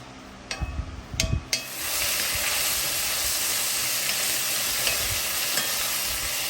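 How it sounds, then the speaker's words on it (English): Bacon dropped into an iron skillet, a few clattering thuds as it lands, then a steady, loud sizzle and hiss of frying that continues evenly on its own. "I'm going to toss all that bacon into an iron skillet. We're going to cook this up till it's nice and crisp."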